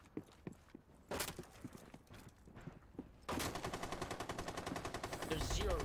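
An M249 SAW light machine gun fires in the game Rainbow Six Siege: scattered single shots and footsteps first, then a sustained rapid automatic burst hammering steadily for the final few seconds.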